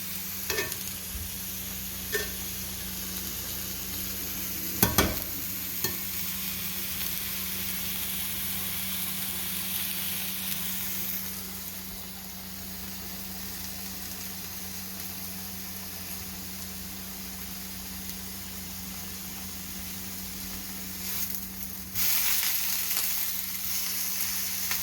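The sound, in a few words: onions and chorizo frying on the stove top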